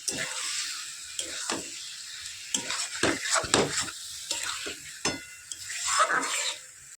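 Lote fish frying in a pan while being stirred: a steady hiss of sizzling is broken by repeated scraping and clinking strokes of the spatula, close and fairly loud.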